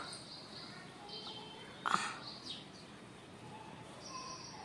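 Small birds chirp faintly outdoors in a home garden where they come to feed, with soft scattered calls and one brief louder burst of chirping midway.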